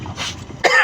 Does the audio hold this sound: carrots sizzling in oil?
no